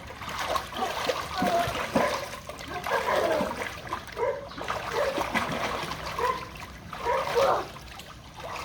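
Backyard pool water sloshes and splashes in uneven bursts as someone sits and flaps to make waves, fairly close, with small trickles between the splashes.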